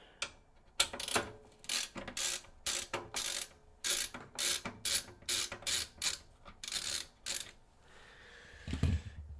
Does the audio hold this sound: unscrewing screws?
yes